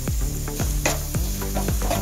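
Onion fries in hot oil with turmeric and chili powder, sizzling steadily while a spoon stirs and scrapes the pan in repeated strokes, close and fairly loud.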